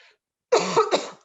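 A single cough burst with a throat-clearing quality, close and alone, breaking a pause during a live talk.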